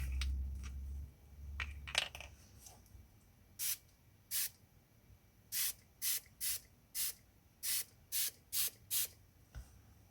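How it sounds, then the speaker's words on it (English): A spritz bottle sprays water onto wet watercolour and Brusho paint, a run of about ten short, crisp hissing bursts in a fairly even rhythm, heard close, preceded by some soft handling noise. "let's make some mess with my spritz bottle"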